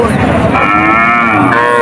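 A calf at a cattle market moos once, loud and close, in a single sustained call that fills the short moment.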